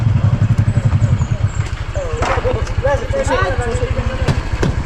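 A motorcycle engine putters in a fast, regular rhythm close by while people talk over it.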